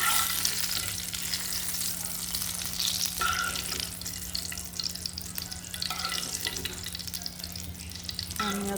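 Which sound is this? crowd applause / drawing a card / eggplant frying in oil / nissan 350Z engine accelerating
eggplant frying in oil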